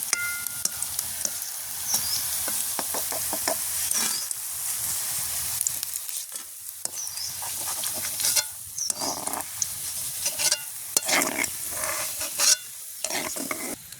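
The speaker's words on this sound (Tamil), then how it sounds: "இப்போ கத்திரிக்காய் பொரிஞ்சு கொண்டு வருது" Steady sizzling of eggplant deep-frying in hot oil for kothu idiyappam, with occasional stirring clatter over the continuous crackle.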